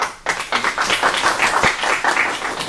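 A short, close burst of clapping from a small seminar audience, dense and steady for a couple of seconds.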